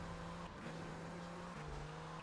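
A car driven in GTA Vice City gives a steady game engine tone that steps up and drops with gear changes, plus a brief tire-like screech, continuous and fairly quiet.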